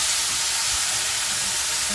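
Mango chutney fries in hot oil over a low gas flame, giving a loud, steady, close sizzle that holds unbroken throughout.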